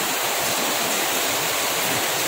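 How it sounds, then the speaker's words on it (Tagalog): Heavy rain pouring down steadily around a house, a dense, loud, unbroken hiss with no pauses and no voices. "Ayan, lakas ang ulan, di ba?"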